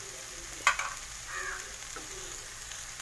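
Turmeric, Kashmiri chilli and pepper powder sautéing in a hot pan for a Kerala-style egg dish, a steady soft sizzle with a sharp utensil scrape near the start and light stirring after, no talk.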